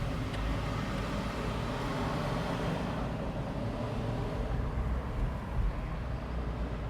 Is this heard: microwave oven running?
no